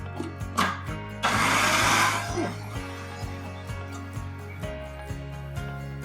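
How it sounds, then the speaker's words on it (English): A food processor whirs through hummus ingredients with fresh lemon in one loud, roughly one-second burst, then stops. Steady background tones and soft, regular low thumps continue around it. "Then we're just going to start this food processor and mix it up."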